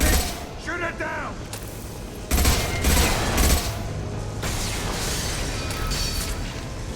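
Mass Effect 2 combat with bursts of rapid gunfire and heavy booming impacts, loud and dense, with game voices and a speaking voice mixed in.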